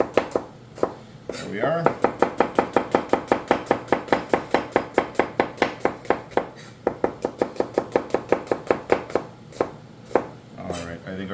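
White onions are chopped on a cutting board with a long run of rapid, even knife strikes close to the mic, tapering to scattered chops, with a brief spoken remark near the end.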